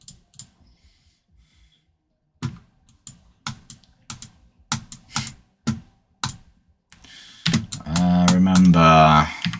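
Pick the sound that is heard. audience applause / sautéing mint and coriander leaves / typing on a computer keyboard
typing on a computer keyboard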